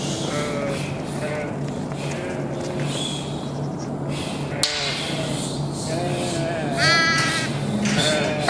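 Sheep bleats ring out during a children's Sunday school Christmas nativity service at a church in Pekanbaru, several wavering calls over a busy room murmur and a voice speaking.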